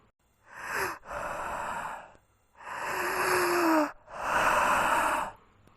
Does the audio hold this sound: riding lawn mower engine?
no